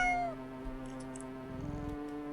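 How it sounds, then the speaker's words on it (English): Cat meowing once up close at the start, then quieter rhythmic munching sounds as cats eat fish, with a soft tonal hum underneath. "Sound of happy cats munching away at their fish fills your ears."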